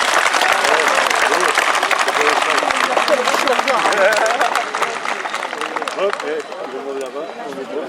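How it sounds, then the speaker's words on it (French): An outdoor festival audience claps loudly for the security staff, a thick burst of applause mixed with crowd chatter and voices, easing off and growing quieter toward the end. "Je vais vous demander de les applaudir aussi, s'il vous plaît."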